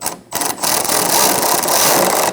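Ratchet snugging tail light nuts on a 2020s Toyota Corolla, a brief pause and then a steady, loud, close mechanical clicking run for about two seconds, alone with no voices.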